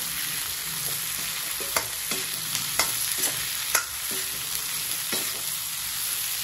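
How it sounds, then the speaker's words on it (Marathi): Capsicum and onion are stirred and fried in a pan over high heat for chicken chilli. A constant loud sizzle is broken by several sharp scraping and knocking strokes of the spoon against the pan. "आता शिमला टाकून मिक्स करून घेऊ।"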